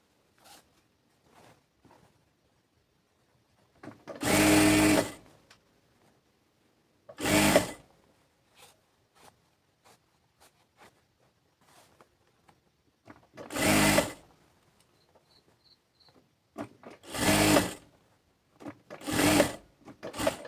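Sewing machine stitching a salwar, running in several separate loud bursts of rapid stitching, a few seconds each, with quiet handling and fabric rustle in the pauses between.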